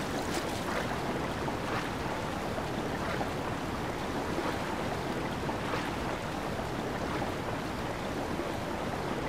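Continuous rushing, splashing water in Zelda: Breath of the Wild as the character swims, a steady broadband wash that stays loud and even throughout with no talking over it.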